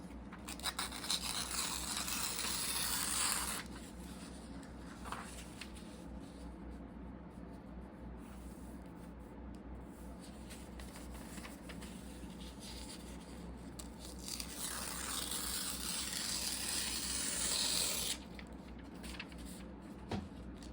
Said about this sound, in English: I don't want to have perfect edges, so I'm going to tear.